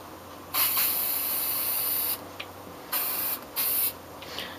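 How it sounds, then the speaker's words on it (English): Clear coat hisses from an aerosol can onto a wooden puck in several close, loud bursts: one long spray, then three shorter ones separated by quiet pauses, with no talk. "Now I'm going to give it a clear coat."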